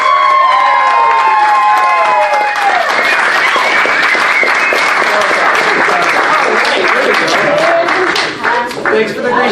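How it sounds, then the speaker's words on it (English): Loud, sustained audience applause with cheering and shouts fills a live Dragget Show stage event at MCFC 2019, continuous throughout with a brief dip near the end. "One more round of applause."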